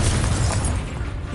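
Confringo blasting spell explosion in Hogwarts Legacy, a short loud booming burst with a rumbling low end that quickly fades.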